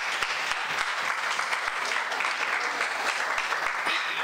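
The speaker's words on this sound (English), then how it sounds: "Please give yourselves a round of applause." Audience applause fills the space in a steady, dense wash of many hands clapping, moderately distant and even in level throughout, with no voices standing out.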